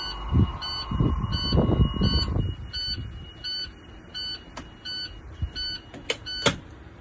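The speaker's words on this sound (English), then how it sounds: "We want to make sure that buzzer goes off every time." An emergency hatch buzzer sounds in regular short electronic pulses, following a burst of mechanical clunking and rattling at the start.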